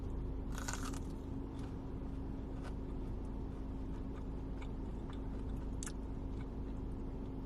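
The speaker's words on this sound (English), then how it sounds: "Did you guys hear that crunch?" A single sharp crunch from biting a McDonald's chicken nugget near the start, followed by faint chewing over a steady low background hum.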